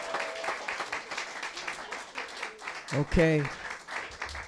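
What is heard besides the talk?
audience applause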